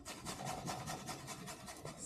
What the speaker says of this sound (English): I have a garlic grater